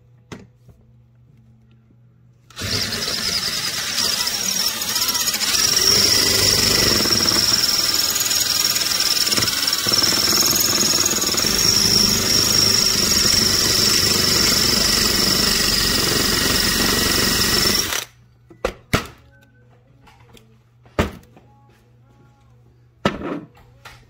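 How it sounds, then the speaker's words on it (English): A power drill bores out a rivet on an Atom 80 exhaust, running loud and continuous for about fifteen seconds, then stopping, followed by a few sharp clanks and taps of handling. "I'm going to drill this one now."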